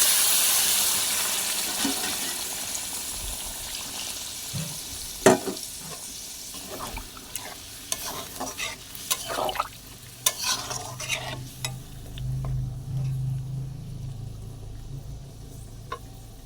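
Hot water poured into chicken cooking in a pan for a low-oil, mildly spiced chicken curry: stirring clatter and soft sizzling, a few sharp utensil knocks, then a bubbling low wash as water goes in, close and steady with no talk.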